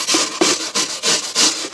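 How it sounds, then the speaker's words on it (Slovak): A wire brush scrubs rust off the corroded chassis of an AL-KO lawn mower, a rough rasping rub repeated in steady strokes, about four close, loud passes. "musíte použiť klasickú drôtenú kefu"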